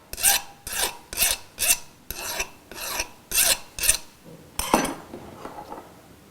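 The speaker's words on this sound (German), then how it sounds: "Mit einer Metallfeile glättet der Pforzheimer die Kanten des Goldrings." A goldsmith's metal file rasps along the edges of a gold ring in about nine brisk, evenly spaced strokes, close and crisp, and the last few strokes are fainter.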